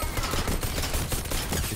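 Rapid gunfire in the video game Fortnite, loud and dense, a steady stream of shots blurring into continuous crackling bursts.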